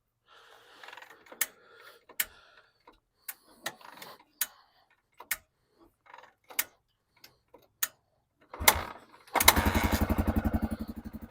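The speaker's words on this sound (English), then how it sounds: "The motor sounds real good." A Honda XR250L dual-sport motorcycle, about 30 years old, gets several clicks and cranking attempts after being choked, then its single-cylinder engine catches and idles with a steady, close, rapid thump.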